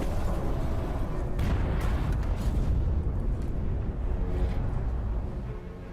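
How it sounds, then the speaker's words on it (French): A torpedo strikes a ship in a wartime naval attack, giving a sustained, heavy, rumbling blast that roars loudly and steadily for several seconds with no voices over it. "la torpille d'Encke touche sa cible"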